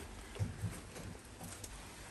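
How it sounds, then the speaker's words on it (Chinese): A sudden heavy rainstorm in the countryside, heard as a steady, fairly faint wash of hiss with a few soft low thumps and no voices. "突然下暴雨了。"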